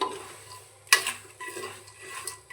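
Black chickpeas being stirred as they dry-roast in a pressure cooker over a full gas flame, a spoon scraping and clinking against the metal, with a sharp clatter near one second and quieter rattling after it.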